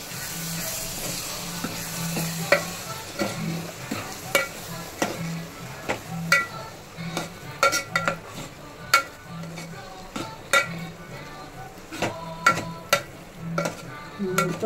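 Tomato and dry prawn curry stirred in a pan, a spoon scraping and clacking in repeated strokes over a soft, steady sizzle of frying, close and moderately loud.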